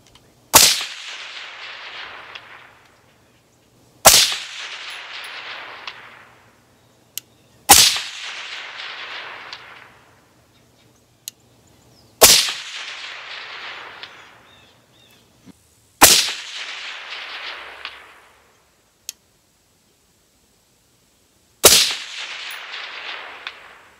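Six sharp rifle shots from an Aero Atlas S-One 5.56 upper, fired at a 400-yard target, spaced a few seconds apart, each a loud crack followed by a decaying outdoor echo, with no talk.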